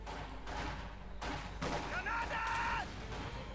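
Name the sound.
Molotovs and mortar rounds exploding in the video game Company of Heroes 2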